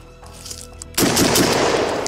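Adams Arms P3 and direct-impingement rifles open fire after a mud torture test, a loud, dense string of rapid gunshots that begins abruptly and keeps going to the end.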